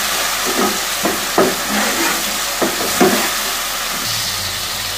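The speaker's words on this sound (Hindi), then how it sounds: "अच्छे तरीके से भून लेंगे।" Masala with turmeric, red chilli and salt frying for a black chickpea curry, a steady loud sizzle with intermittent scraping stirs of a spoon in the pan, no talking.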